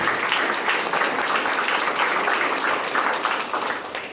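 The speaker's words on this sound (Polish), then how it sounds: "nagrodźmy ich oklaskami" A crowd at a photography contest exhibition opening applauds the jury, giving steady, dense clapping that holds throughout and fades slightly at the end, with no talking over it.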